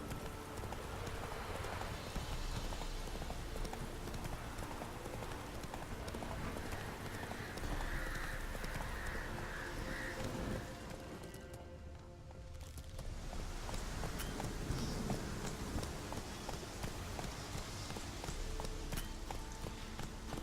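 Roach, the horse in The Witcher 3, trots with steady rhythmic hoofbeats over ground alongside game ambience, briefly easing off near the middle before the clip-clop picks back up.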